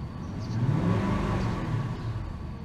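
A car engine at operating temperature, with a bad radiator cap and an overfilled coolant reservoir, is revved in one close, steady swell that rises and then settles back.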